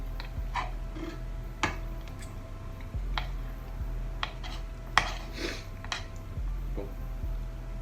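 Cutlery scraping and tapping on a plate while cutting whole roast chicken, with scattered clicks and clinks over a low steady background hum, fairly faint and close.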